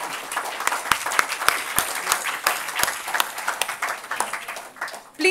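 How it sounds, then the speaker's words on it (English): An audience at a memorial lecture gives a round of applause, a moderate crowd clapping with distinct sharp individual claps standing out, tapering off near the end before a louder swell. "Please join me with a round of applause in welcoming Father Mascarenhas, former principal of Xavier's College, to the stage."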